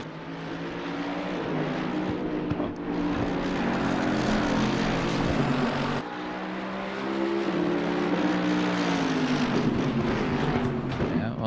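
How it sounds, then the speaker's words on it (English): Mercedes GT3 race car engine in Assetto Corsa Competizione at Spa, a loud sustained drone rising and falling through gear changes with another car audible, steady and close throughout. "That Mercedes engine is really, really going for the drag race"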